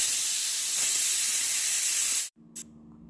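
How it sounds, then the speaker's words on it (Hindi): Pressure cooker on high flame cooking jackfruit, its whistle venting a loud, steady rush of hissing steam that cuts off abruptly, followed by a short faint puff. "कुकर की लीड लगा दी है और हाई फ्लेम पर 1 विसिल होने का इंतज़ार करेंगे।"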